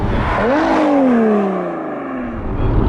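Lotus Evora 400 sports car revving hard, a loud close engine note climbing and then sliding down in pitch as it pulls away, with no talk over it.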